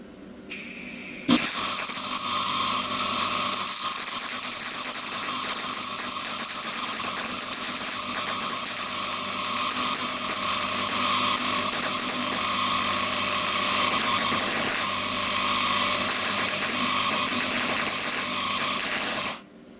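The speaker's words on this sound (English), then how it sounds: "I'm going to try and weld it on" Arc welding a drilled-out nut onto a seized intake manifold bolt on a Mercedes R107 450SL, a steady loud crackling buzz starting after a brief pause and running continuously for nearly twenty seconds before cutting off, no talking.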